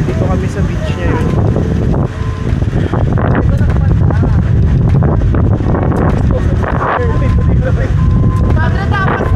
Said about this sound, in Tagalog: Pero mahangin.